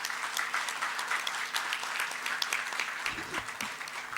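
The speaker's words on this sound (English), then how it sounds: "Let's welcome our guests with a loud round of applause" Festival audience at a literature and art event applauding to welcome guests, a continuous crowd clapping that stays even, with a brief low voice or thump near the end.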